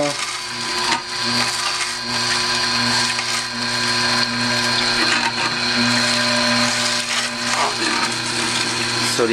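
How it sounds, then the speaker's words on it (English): An Omega NC800 HDR slow juicer runs with a steady, droning motor hum and grinding of the auger crushing produce, continuous and close for the whole stretch. "that big screw, transports the fiber forward, and the juice gets extracted down there or pushed out down there."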